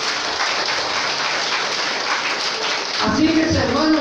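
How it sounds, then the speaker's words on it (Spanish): A church congregation at a Guaraní-language sermon claps together in praise of the Lord. A rain-like patter of hands runs for about three seconds before a voice takes over. "Fuerte aplauso al Señor"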